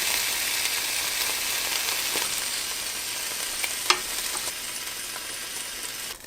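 Lamb chops sizzle steadily on a Ninja Foodi Grill, a dense, even hiss close up with one brief tap partway through and no talk.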